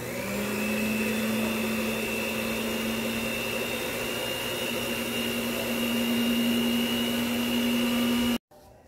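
An electric mixer running steadily on its low setting while a mixture thickens, a loud continuous whirring hum with a constant pitch close by, cutting off abruptly near the end, no talk over it.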